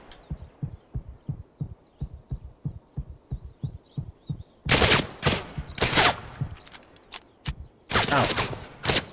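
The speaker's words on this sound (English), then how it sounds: "he's shooting me from underneath" Enemy gunfire from beneath a bridge in a shooter video game: a long run of regular, evenly spaced thumping shots, then louder, denser bursts of fire in the second half, close and without talk.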